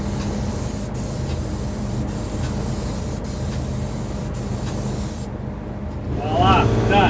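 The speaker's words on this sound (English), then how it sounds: "It's a pneumatic sprayer" A pneumatic paint sprayer hisses steadily while coating kitchen cabinets, with brief pauses between passes, then cuts off before a voice begins to talk near the end.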